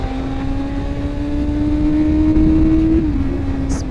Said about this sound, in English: that valve opens up and lets this already beautiful sounding engine scream a little bit louder